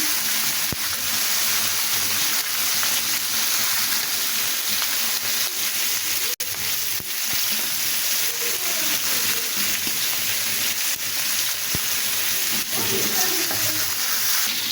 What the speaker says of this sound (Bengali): পেঁয়াজটা আমি হালকা বাদামি রং করে ভেজে নিচ্ছি